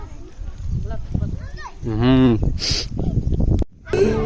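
A cow moos loudly nearby, a long low drawn-out call, with people talking around it outdoors.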